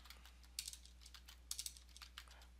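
Quiet typing on a computer keyboard: bursts of several quick clicking keystrokes in irregular clusters over a low steady hum, with no talking.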